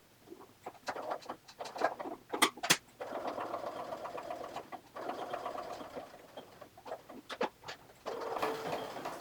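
Sewing machine back stitching fabric while a chapstick holder is sewn: short bursts of fast mechanical whirring, stopping and starting several times, fairly quiet and close, with a soft clack between runs.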